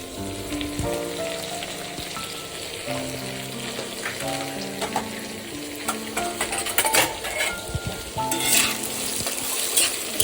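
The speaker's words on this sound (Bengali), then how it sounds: "ভাজা ভাজা হয়ে যাচ্ছে আলুগুলো" Potato pieces seasoned with salt and turmeric fry in a pan, giving a continuous crackling sizzle with bursts of louder spattering and stirring toward the end.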